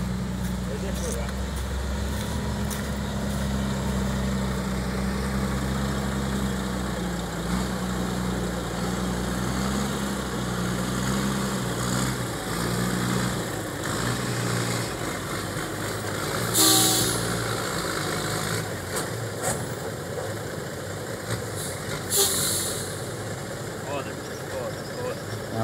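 A tractor engine rumbles steadily in the low range as it works along a slick, muddy dirt road, continuous and fairly close. Voices talk over it now and then, and a few brief sharp bursts break in.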